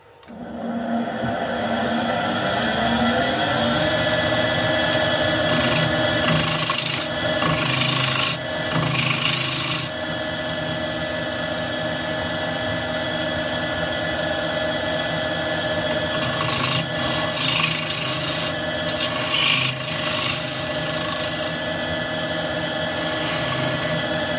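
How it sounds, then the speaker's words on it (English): A half-inch bowl gouge cuts a birch plate spinning on a wood lathe, giving a loud, continuous scraping rasp over the lathe's steady hum, with a few brief surges as the tool bites. "I'm going to use 1/2 inch bowl gouge for this"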